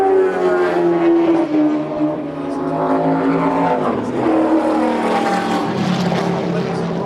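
A Honda VTEC engine revs hard and climbs in pitch at Santa Pod drag strip, a loud, continuous high-revving whine that dips and rises again, heard up close.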